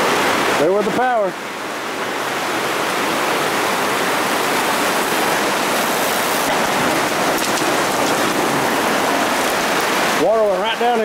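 Heavy rain pours down in a dense, continuous roar, shorting out an extension cord, with brief wavering voice-like sounds at the start and end.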